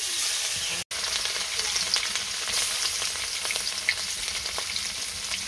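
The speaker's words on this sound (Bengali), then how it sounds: "মাছটা দিয়ে দিলাম" Rohu fish fries in hot oil in a pan, a loud, steady crackling sizzle with scattered pops running throughout and one brief dropout early on, with no voices heard.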